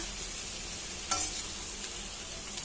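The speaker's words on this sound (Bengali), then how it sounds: "ডুমুরটা আমার অনেকটাই ভাজা ভাজা হয়ে গেছে, এখন আমি নামিয়ে নেব" Fig pieces frying in oil in a pan, producing a steady soft sizzle with a brief stirring scrape partway through, close and alone with no talking.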